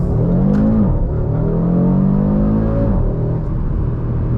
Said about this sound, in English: when I took that corner and I floored it